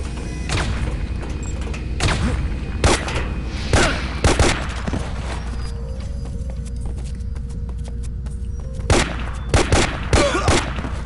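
Gunfire in a video game's final battle, with enemies spawning around: sharp, loud shots ring out sporadically in clusters over a constant low background rumble, with uneven pauses between bursts.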